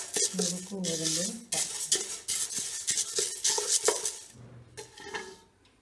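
Broken wheat is stirred and roasted in a pan, with loud, close, repeated scraping and clinking strokes in an uneven rhythm that fade out near the end.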